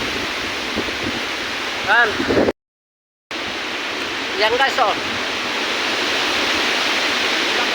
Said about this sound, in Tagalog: Yan, sobrang lakas ng hangin